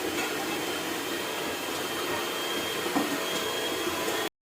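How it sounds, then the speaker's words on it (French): An electric whisk runs steadily at low speed through a simple sour cream cake batter, a continuous even whir that holds for several seconds and then cuts off sharply; nobody speaks. "J'utilise la fouette électronique"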